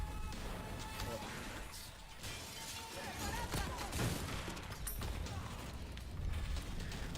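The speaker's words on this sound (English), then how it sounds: "Shotgun." Shotgun blasts in a video game ring out as a few sharp bursts over a dense, constant bed of game noise and clatter, fairly loud throughout.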